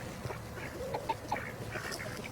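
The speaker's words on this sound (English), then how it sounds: "the chickens are coming after me too" Chickens give a few short, soft clucks and calls nearby, scattered over quiet outdoor background noise.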